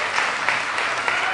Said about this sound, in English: Please, let's give them another round of applause.